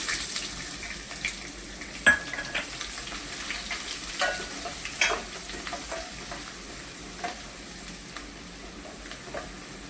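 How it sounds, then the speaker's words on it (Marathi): Garlic and onion frying in a pan while cooking sprouted whole mung beans, a steady close sizzle with occasional spatula scrapes and clinks, no talking. "कांदा लाल होतपर्यंत करपायचा"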